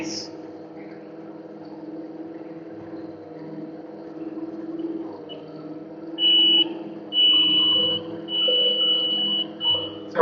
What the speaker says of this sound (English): we're getting the hopper full alarm underneath the machine